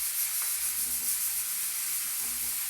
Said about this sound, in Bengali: তাই জন্য ফুলকপিটা একটু হালকা ভেজে নিচ্ছি